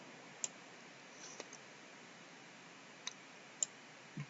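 A few soft, sparse mouse clicks, spaced irregularly and faint against a quiet background, as someone works through matrix calculations in math software.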